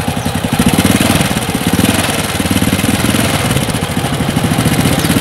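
A motorcycle engine with a standard carburetor idles close by with a steady, rapid low putter that holds evenly throughout, no voices present.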